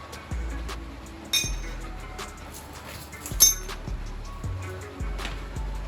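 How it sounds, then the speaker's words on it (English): Under a car, a wrench clinks and taps against metal while brake lines are disconnected from a rear subframe, giving a few sharp, close metallic knocks over a low, rhythmic background hum. "I'm gonna get the wrench up in there and I'll get these 2 lines disconnected"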